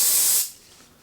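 A single short burst of hair spray hisses from an aerosol can, loud and close for about half a second, then cuts off to quiet.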